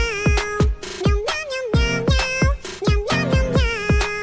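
A cat meows repeatedly inside a camper van, with rising, insistent calls over a steady rhythmic clicking beat that may be music or a ringtone.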